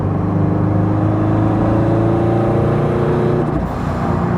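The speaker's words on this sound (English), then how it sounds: "that blow-off valve noise" A turbocharged Subaru BRZ making about 282 wheel horsepower drives steadily under a loud engine drone. Near the end, a brief whoosh, likely from the blow-off valve, breaks into the steady tones.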